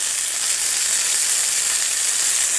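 Thin meat lollipops sizzle in a hot pan, giving a steady, bright hiss of frying that runs evenly and close throughout, with no talking.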